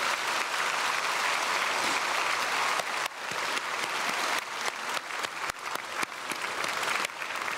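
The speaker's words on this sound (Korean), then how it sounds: "박수하겠습니다." A church congregation claps steadily for several seconds at a Sunday service, dense and continuous, with a few sharper individual claps standing out near the end.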